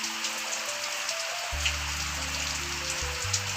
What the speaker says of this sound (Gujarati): અમારે અહીંયા વરસાદ થઈ ગયો છે ચાલુ